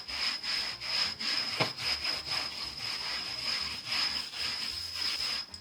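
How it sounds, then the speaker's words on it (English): An old t-shirt cloth buffs waxed furniture with rhythmic, close, soft rubbing strokes, a steady back-and-forth swish that continues throughout. "I've taken a large piece of my old t-shirt, and what I'm going to do is buff everything."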